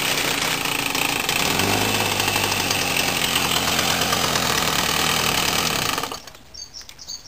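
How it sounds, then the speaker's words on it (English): Small gasoline engine starting cold in a shop, catching and running with a rough, throbbing idle for about six seconds before cutting off abruptly, leaving faint room sounds. "cold start."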